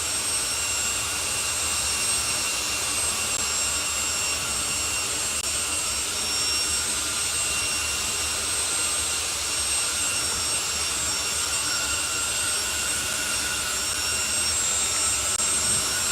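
A drag racing car accelerates hard at the top end of the strip during a doorslammer race day, a steady loud roaring drone that holds for the whole stretch without letting up.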